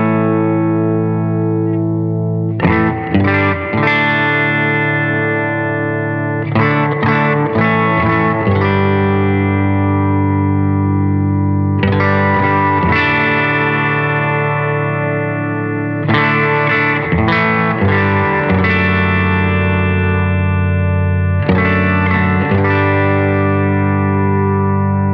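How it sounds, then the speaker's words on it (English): Guitar played through a spring reverb pedal that uses an infrared light to pick which part of the spring is struck, giving loud sustained chords in several bursts with washy, distorted reverb tails and no talk. "You can tailor the sound of the spring and hit the part of the spring that you want to hit."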